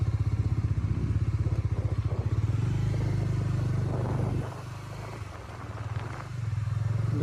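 A Bajaj Dominar 400 motorcycle cruises in sixth gear on a road, its steady engine drone throbbing evenly under rushing wind. The drone dips briefly midway before settling back.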